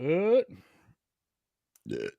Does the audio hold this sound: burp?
yes